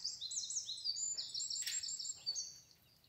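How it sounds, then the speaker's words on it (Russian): Small birds sing and chirp by a ravine at the Lesnye Ozyora sanatorium near its mineral springs, a cluster of high, overlapping trills and tweets at moderate distance in a quiet setting, with no voices. "Просто даже посидеть, послушать птиц."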